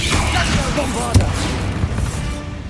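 A Bombarda blasting spell is cast in the Hogwarts Legacy video game, heard as a dense, loud roar of rumbling game noise with one sharp impact crack near the middle and a few smaller hits.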